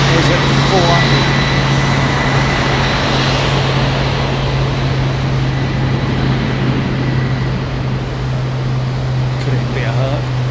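A Lockheed Martin aircraft passes over Heathrow Airport, its loud, steady engine roar filling the whole stretch with a constant low hum beneath it, while someone speaks nearby.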